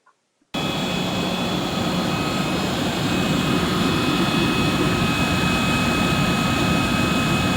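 An electric centrifugal fan for a hovercraft spins up abruptly from silence on a bench test into a loud, steady whooshing roar with a constant tonal whine, running unchanged and alone.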